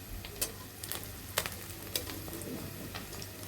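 Fish koftas made from rohu fry gently in a pan over medium-low heat, with a faint steady sizzle and a few sharp ticks and pops over a low hum.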